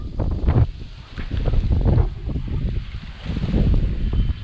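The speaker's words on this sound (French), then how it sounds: "Ça s'appelle une rafale de vent." A strong gust of wind blows through a garden near a greenhouse, roaring steadily against the microphone in loud, rough surges with no talking.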